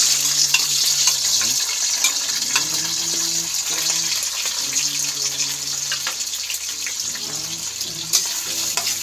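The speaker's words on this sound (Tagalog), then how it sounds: "isute ko muna yung ating hipon" Chopped shrimp sautéing in a pan for a simple Filipino vegetable dish, a steady bright sizzle with soft stirring scrapes and a faint musical tone running underneath.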